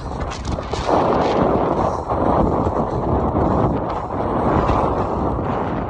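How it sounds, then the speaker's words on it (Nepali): Strong wind buffets the microphone in loud, rumbling gusts that swell and ease without pause, drowning out any other sound. "हावा मस्त चलेर।"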